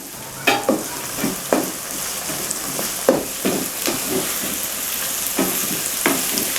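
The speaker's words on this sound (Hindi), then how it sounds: "तो प्याज को अच्छे से ब्राउन कर लेंगे।" Chopped onions stir-frying in a pan until brown, with a steady background sizzle broken by a series of scraping stir strokes from a spoon or spatula, close and fairly loud.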